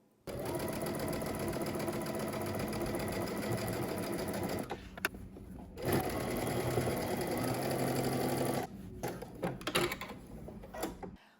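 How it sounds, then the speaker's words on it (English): A sewing machine runs steadily, stitching a straight line on the wrong side of fabric, with a dense mechanical whir that pauses briefly and restarts, then stops and starts again in short bursts near the end. "go ahead and stitch on the wrong side of your fabric so that you obviously have more visibility"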